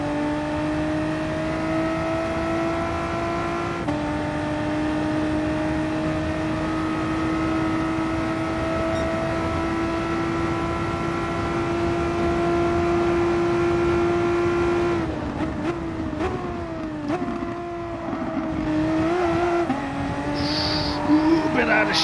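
A race car at Bathurst in GT Sport holds a steady high engine drone, then shifts and wavers near the end as the car gets out of shape, with tyre noise under it and occasional commentary.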